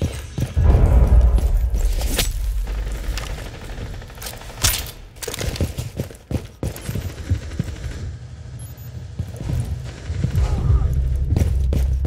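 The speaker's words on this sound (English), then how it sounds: "frag grenade" A frag grenade detonating in Rainbow Six Siege, a loud burst with heavy low rumble among a dense run of gunfire and impacts, with voices talking over the action.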